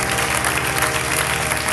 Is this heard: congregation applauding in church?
yes